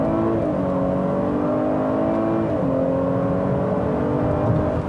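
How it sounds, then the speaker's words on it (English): A 2018 Buick LaCrosse Avenir pulls away hard with a brief wheel spin, its engine rising in a steady, loud climbing whir heard from inside the cabin, with no voices over it. "A little bit of wheel spin there."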